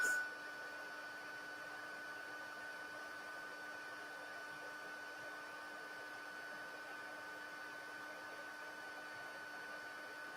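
An embossing heat tool warms up for use on watercolor paper with a faint, steady blowing hum and a thin high whine. It sounds quietly and evenly after a brief louder start.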